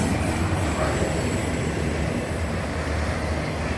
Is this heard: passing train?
yes